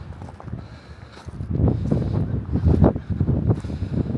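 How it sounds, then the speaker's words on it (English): Cold wind gusts across a freezing lake shore at Lake Taneycomo, a low, rumbling buffet against the microphone that swells and stays loud through most of the clip. "feel like 29 degrees temperature with that wind blowing"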